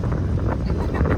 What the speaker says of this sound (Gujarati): પવન ફૂલ છે.